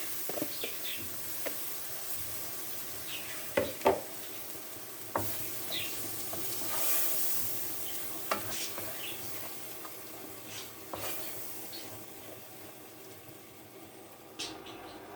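Lentils roasting in a pot give a soft, steady sizzle, broken by a few sharp scrapes and clicks as a spoon stirs them through.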